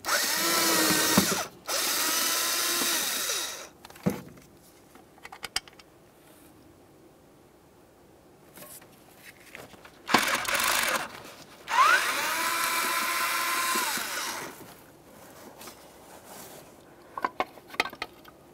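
A cordless power driver whirs in several bursts, close and loud, backing out T15 Torx screws from the distributor cap of a 1999-2006 Chevrolet Silverado 1500 4.3L V6, with quiet handling clicks between the runs.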